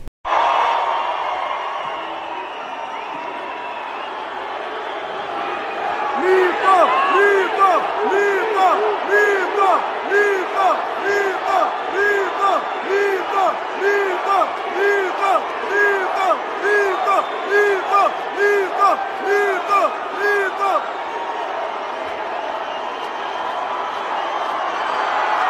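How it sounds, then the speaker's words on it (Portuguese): A concert audience shouts the chant "Mito" in rhythm along with clapping in a rally for Brazil's president. A steady crowd roar swells into repeated loud rhythmic cries that go on for about fifteen seconds and then settle back. "A plateia aplaudiu e respondeu aos gritos de Mito, apelido pelo qual é conhecido o atual presidente."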